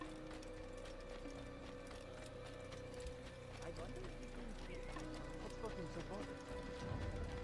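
Horse hooves clip-clop in the Assassin's Creed video game, a faint, steady rhythmic trot with soft mechanical clicking underneath.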